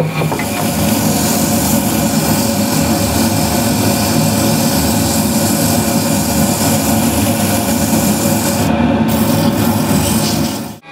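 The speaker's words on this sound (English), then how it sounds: "I won't sand too much this outside foot area" Sandpaper rubs against the outside foot of a spinning wooden bowl on a lathe, giving a loud, steady, continuous hiss over the motor's hum for the whole stretch, with no voices.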